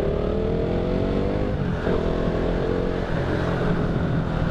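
KTM Duke motorcycle accelerating up through the gears on open road, a loud, continuous engine drone whose pitch rises and briefly dips at the shifts, heavy wind rush layered over it.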